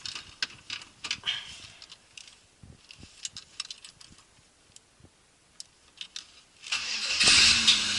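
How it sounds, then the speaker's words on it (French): Light clicks and ticks, then a Lotus Elise S1 engine cranks and catches, roaring steadily near the end. "on peut essayer d'allumer quand même la voiture"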